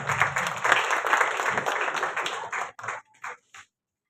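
A small audience claps warmly at a women's award ceremony to welcome a guest receiving a bouquet; the applause is dense at first, then thins into a few scattered claps and stops.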